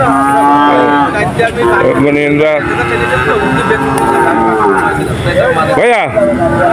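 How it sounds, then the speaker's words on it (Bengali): Cattle low and moo loudly at a busy cattle market at Atharo Mile where Friesian calves are traded, with a sustained near moo standing out over dense crowd noise while people talk nearby. "এই এই একটা গরু দেখা যাচ্ছে মানে খুবই দারুণ একটা গরু"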